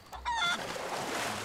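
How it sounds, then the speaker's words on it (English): A golden chicken in the pirate video game Sea of Thieves gives a short, bright cluck over a steady wash of ocean and game ambience. "we just got a golden chicken up in here"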